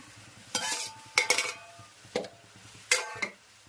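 Eggplant tossed into a hot pan, a few loud bursts of sizzle and metal spatula scrapes spaced over a quieter background hiss, close up with no voices.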